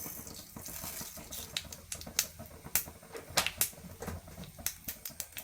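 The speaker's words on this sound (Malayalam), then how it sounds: "വെളിച്ചെണ്ണ എണ്ണ ചൂടായി കടുക് ഇട്ട് കൊടുക്കാം" Mustard seeds splutter and pop in hot coconut oil in a pan, with sharp irregular crackles and snaps over a low sizzle, close and fairly quiet, growing busier toward the end.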